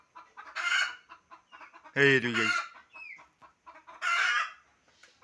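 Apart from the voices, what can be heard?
chickens clucking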